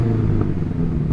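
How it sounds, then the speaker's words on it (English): A BMW M5 CS engine gives a short, steady, deep droning growl, loud and close, with no other sounds. "I'm going to rev up this BMW, see what it sounds like"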